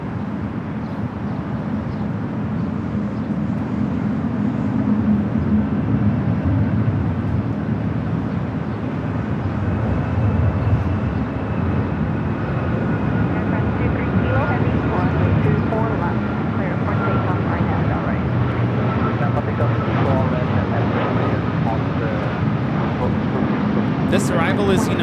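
An Air France Boeing 777-300ER departs LAX with a steady, deep jet roar that builds slightly and stays strong throughout, while a person talks over the engine noise.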